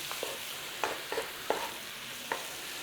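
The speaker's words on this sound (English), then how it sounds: "we're going to saute those mushrooms" Mushrooms sautéing in olive oil and butter, a continuous soft hiss of frying with several light spoon or spatula knocks and scrapes against the pan, fairly quiet and close.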